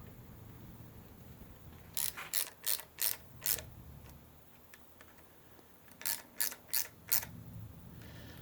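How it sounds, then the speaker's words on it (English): Two quick bursts of a hand ratchet clicking close by, about five sharp strokes each with a pause between, as the hour meter on a Honda CRF125F dirt bike is tightened down in a quiet workshop. "we will tighten that down so it doesn't fall off when you're riding"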